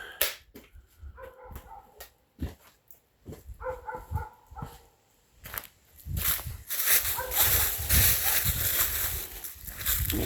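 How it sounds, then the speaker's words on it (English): A dog barks in short bursts with pauses between, mixed with footsteps and scuffling, then a louder stretch of rustling noise. "I've never heard that dog bark."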